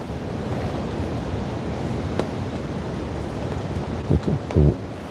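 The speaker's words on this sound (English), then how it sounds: "How loud is that wind?" Strong wind roars steadily outdoors around a ground blind amid sleet and fog, a loud broadband rush with microphone buffeting and a few heavier gusts near the end.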